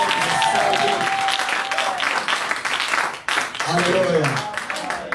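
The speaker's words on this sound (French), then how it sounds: "Let's clap for the Lord Jesus." A church congregation claps and cheers for Jesus at a Sunday water baptism service, with sustained applause filling the room while a voice speaks and calls out over it.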